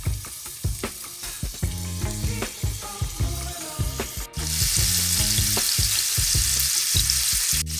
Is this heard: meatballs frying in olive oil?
yes